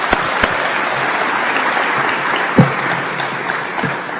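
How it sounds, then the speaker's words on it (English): Audience applause at a conference, a dense steady clapping from a crowd that fills the whole stretch with a few sharper claps near the start. "One more round of applause for their incredible leadership."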